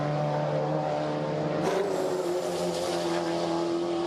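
NZ Super Trucks race trucks on a warm-up lap at the Pukekohe circuit make a loud, continuous engine drone with a steady pitch and no breaks.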